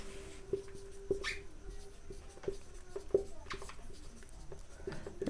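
Pen strokes scratching on paper during a geography lesson: a soft, continuous scrape close by with faint periodic ticks, quiet and steady, with no voice over it.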